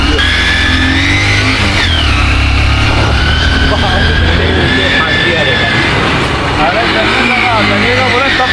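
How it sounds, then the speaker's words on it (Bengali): Local motorcycles climb the road up Parasnath Hill in Jharkhand, engines droning steadily and close with rising revs throughout, under constant wind and road noise. "সেটা আমরা টাইম বাঁচানোর জন্য এই বাইকগুলো নিচ্ছি, এখানকার লোকাল বাইক"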